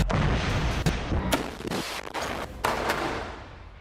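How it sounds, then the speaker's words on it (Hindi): Hamas fighters launch 114 mm Rajum short-range missiles, heard as a rapid series of heavy blasts and booming launches over a rolling low rumble, loud and fairly near. "हमास के लड़ाके इस वीडियो में शॉर्ट रेंज वाले 114 mm कैलिबर रजुम मिसाइल से हमला करते हुए नजर आ रहे"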